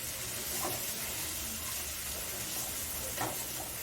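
Onion and tomato sizzling in a pan for a chicken curry, stirred steadily: a continuous soft frying hiss with faint scraping strokes, close and fairly quiet, with no one speaking.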